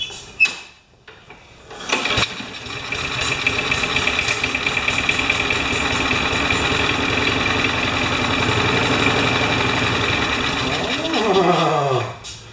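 A Craftsman lawn mower engine cranks and catches, then runs at a steady idle with a rough, mid-pitched putter that holds for about ten seconds before a brief revving flourish, loud and close throughout.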